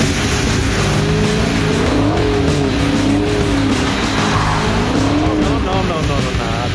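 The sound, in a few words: car drifting with tire squeal, 600 HP Oldsmobile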